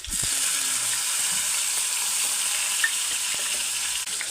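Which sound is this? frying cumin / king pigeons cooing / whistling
frying cumin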